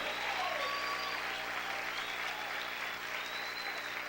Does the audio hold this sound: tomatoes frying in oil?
no